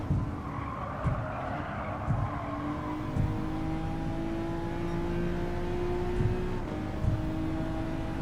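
A WTC 600 racing car's engine revs and climbs steadily in pitch, loud and close, through a long acceleration with brief gear-change dips and faint tire noise.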